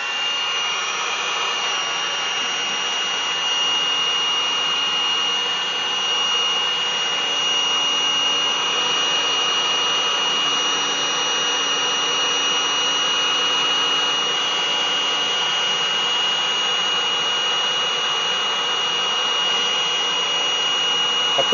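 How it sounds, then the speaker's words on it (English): An electric charcoal lighter blows air into lump charcoal on an outdoor deck grill, making a continuous, even whirring hiss that holds steady from start to finish, close and alone. "it's a good electric lighter"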